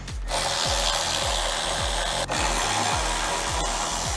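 Self-tapping screws being backed out of a skid plate on a Polaris RZR XP, a steady rapid ratcheting tool clicking repeatedly and loudly up close, no talk.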